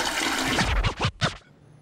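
A toilet flushes close by, a short rushing gush of water that surges and gurgles briefly before cutting off into quiet.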